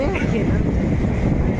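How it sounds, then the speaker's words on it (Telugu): Strong wind at Somasila dam in Nellore, a loud continuous roaring buffet against the microphone with no breaks. "గాలి అయితే ఎట్లా వస్తుంది నాకు అట్లా వస్తుంది గాలి మాత్రం"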